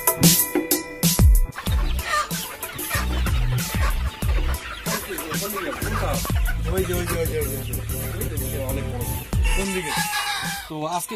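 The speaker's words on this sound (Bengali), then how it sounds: "তো আজকে দেখছি প্রচুর মুরগির সমাগম।" Many Sonali chickens cluck and crow together on a crowded chicken farm, a dense, loud chorus of overlapping calls with a few sharp bursts, and people talking beneath it.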